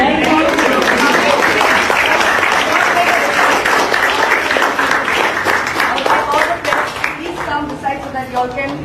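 A crowd of parents and children gathered outdoors for a press statement opposing school reopening, clapping continuously and loudly with voices chattering over and around the applause.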